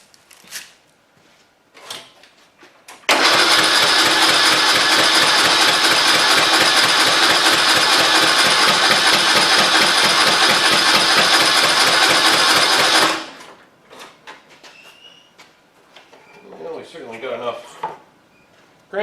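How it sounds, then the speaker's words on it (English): A transplanted engine on a cheap zero-turn mower gives a loud, rhythmic mechanical churning for about ten seconds, then stops abruptly, with quieter clanks and a person speaking before and after. "Let's see if our transplant engine's going to run"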